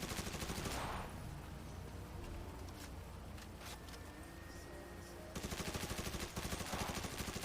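Gunfire from a video game shootout with police, dense sustained bursts of shots rattling loudly and continuously throughout.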